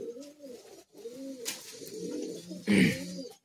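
Soft, rhythmic cooing of high-flying Madrasi pigeons in a loft repeats in low warbling phrases, with a brief flutter or louder rustle near the end; no talking.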